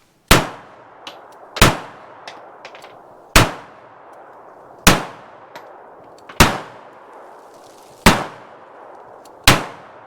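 A Walther pistol fired at a shooting range: seven sharp, loud, ringing shots spaced about a second and a half apart, each decaying quickly, with faint clicks and handling noises between them.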